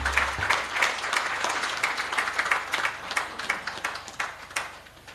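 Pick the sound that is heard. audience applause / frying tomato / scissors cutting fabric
audience applause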